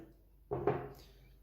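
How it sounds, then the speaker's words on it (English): A short double sniff of a men's fragrance, Salvatore Ferragamo Uomo Casual Life: two quick, close nasal inhalations in a quiet room, the second slightly stronger. "Giving myself a little sniff"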